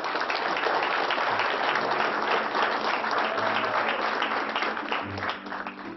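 Sustained audience applause fills the room at a steady level, dense clapping from a crowd that tapers slightly toward the end.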